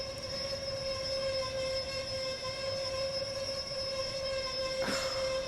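A video game train in Train Sim World 2021 hums steadily as it rolls in to the platform, with a sustained electric whine and tonal drone; a brief squeal or hiss bursts near the end.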